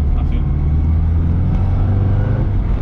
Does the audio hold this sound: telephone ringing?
no